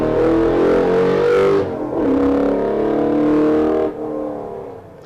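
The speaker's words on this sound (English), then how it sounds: "Oh, here's some rumble. It's the Lexus V8 powered Ford Escort of Jack" Lexus V8-powered Ford Escort race car at a historic sprint event, engine rumbling loudly and revving close by, with a brief dip in the middle before the deep roar surges again and then eases off.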